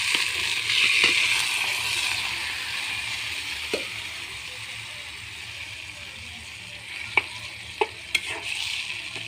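Leafy greens sizzle in a pan on top of already fried onions while being stirred. A bright, steady hiss is broken by a few sharp utensil taps and scrapes near the end.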